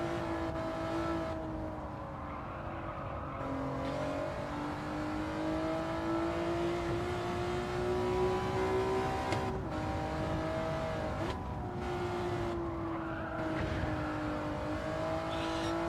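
Race car engine in a racing video game droning steadily as it runs toward the start-finish line, pitch rising and falling with gear changes and throttle over a continuous whine.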